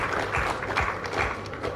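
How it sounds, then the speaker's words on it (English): Applause from an audience at a memorial lecture, a steady wash of many hands clapping with some low rumble, brief and continuous under room noise. "Can we give him another thunderous clap?"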